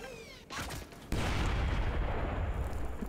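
A grenade explodes in Splinter Cell: Blacklist, a sudden loud close blast that bursts in and holds as a dense, roaring rumble, preceded by brief clatter and a short whooshing sweep.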